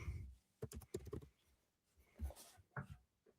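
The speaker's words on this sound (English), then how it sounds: "I'm focusing on typing, dude." Fast typing on a computer keyboard comes in quick bursts of clicks, close but quiet, with a short pause between flurries and faint room sound behind.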